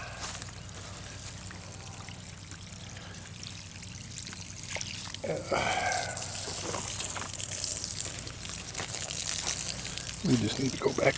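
Water trickling and gushing over clay soil while a garden is watered around eggplant basins, a steady outdoor running flow that swells midway, with someone talking over it.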